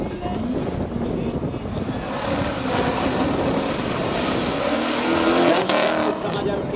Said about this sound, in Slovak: Na štarte auto exotika menom Mercedes E500 a Silár Sabo.